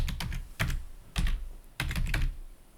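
Fingers type on a computer keyboard in a few quick clusters of clicky keystrokes, close by and fairly quiet, with brief pauses between bursts.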